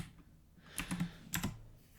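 Computer keyboard keys pressed for a Command Shift R shortcut while coding in Xcode: two short clusters of close, crisp clicks about half a second apart, quiet room otherwise.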